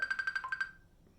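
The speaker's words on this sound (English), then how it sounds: "the phone's ringing" Phone ringtone, a quick run of about seven bright, evenly spaced electronic beeps that stops after under a second, close and moderately loud.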